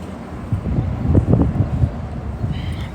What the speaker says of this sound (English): There's like all this wind.